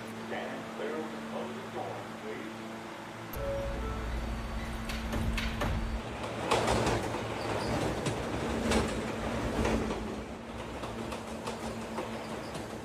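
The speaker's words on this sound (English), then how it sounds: "This is a 57th Street bound and express train via the 5th Avenue line." An express train running on the 5th Avenue line, wheels rumbling and clattering on the rails with a steady motor hum and brief squeals, heard from inside the car under an onboard announcement.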